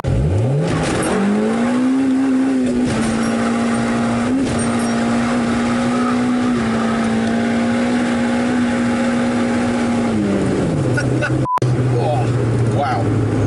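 A car accelerating hard on new Michelin Pilot Sport tyres along a closed private road. The loud engine note climbs sharply, holds a strained steady drone for several seconds, then drops back.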